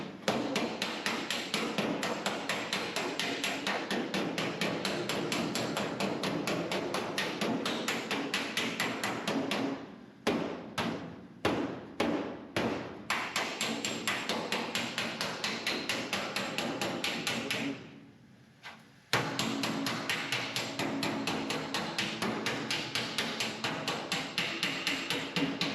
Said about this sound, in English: needs a lot of hammering